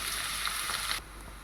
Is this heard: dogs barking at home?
no